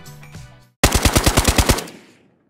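A designed AK47 gunshot sound effect fires as a rapid automatic burst of about ten sharp, loud shots. A reverberant tail follows and fades out, after a brief musical tone and a moment of silence.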